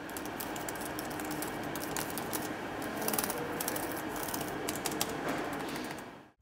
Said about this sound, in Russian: Клавиши нажимаются очень плавно и почти без шума.